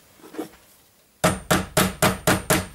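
Six sharp, evenly spaced hammer taps seat a scope base onto a misaligned mount, each strike loud and close with a short ringing decay, following a moment of faint background shuffling.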